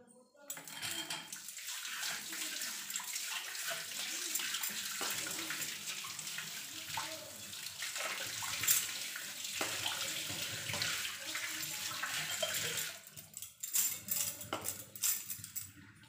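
Tap water runs steadily while copper utensils are washed, with splashing and occasional clinks of metal pots, a continuous close wash that briefly pauses near the end.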